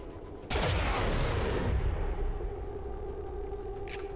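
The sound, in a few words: gunfire in video game XCOM 2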